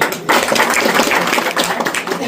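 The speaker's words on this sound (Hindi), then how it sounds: "इसके लिए भैया के ताली हो जाएगी" An event audience claps in honour of local content creators from Balrampur and Siddharth Nagar: a short, dense burst of clapping from a nearby crowd that starts abruptly and holds steady for a couple of seconds.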